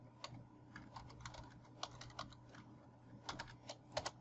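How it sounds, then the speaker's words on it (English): A search term is typed on a computer keyboard in short, irregular bursts of light, close key clicks, quiet and with no talking. "And in the search term or topic area there, I'm just going to type in"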